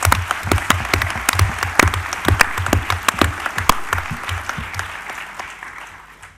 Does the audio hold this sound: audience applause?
yes